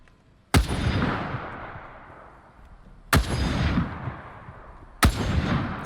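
Three heavy gunshots from Resident Evil Resistance gameplay, each a sharp loud crack with a long rumbling decay, spaced a few seconds apart with no talking.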